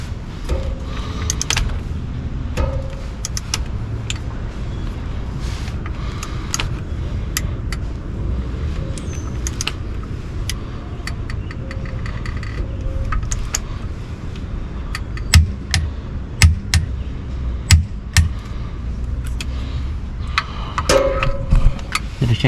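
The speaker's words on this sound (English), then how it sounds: "So now you gotta torque the bottom ones." A torque wrench tightens the bottom bolts of a Per4mance DIRS diff brace on a Dodge Hellcat, giving scattered sharp ticks and clicks over a steady low rumble from the shop.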